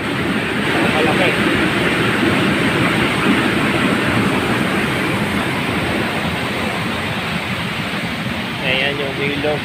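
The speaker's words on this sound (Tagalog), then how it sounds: "Ang lakas ng agos." Strong floodwater current rushes past during a typhoon, a loud broadband roar of churning water that never lets up, close and dominant, with faint voices beneath.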